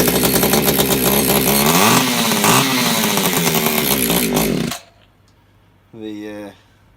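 An Echo CS3400 climbing chainsaw engine runs on half choke, giving a loud, buzzing two-stroke rasp for several seconds before it cuts out abruptly, followed by a brief second sputtering burst.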